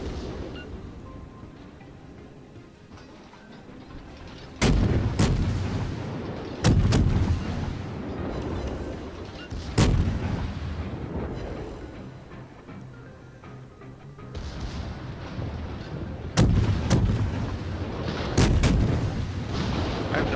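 Naval ship guns in World of Warships fire in heavy booming salvos, about six or seven sharp blasts spaced irregularly over a low rumbling battle background, each followed by a lingering roll.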